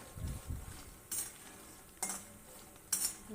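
Makhana (fox nuts) are roasted and stirred in a pan over medium heat, a spoon scraping and clinking against the metal in a few sharp strokes with soft rustling of the nuts between them.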